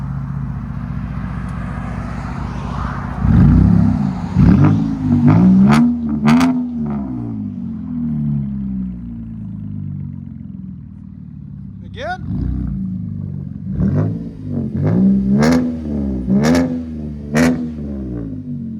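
A Chevrolet Caprice V6 Police Interceptor with 6-inch exhaust tips revs loudly in several deep bursts, rising and falling, with someone talking briefly between the revs.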